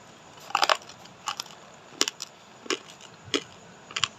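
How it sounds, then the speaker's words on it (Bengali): Crunchy homemade chickpea-lentil chanachur being bitten and chewed up close, in about seven distinct crisp crunching bursts spaced irregularly over a quiet background. "এবার খেয়ে দেখবো কতটা মচমচ আছে দেখেন"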